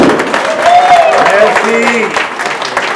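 Crowd clapping and cheering at a military corps dinner at an embassy, loud and close, mixed with voices calling out over the applause.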